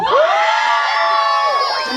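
A crowd of children shouts and cheers loudly in a sustained, excited burst lasting about two seconds, with high overlapping voices and whoops, as they vote for a choice.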